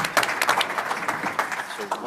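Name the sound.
applause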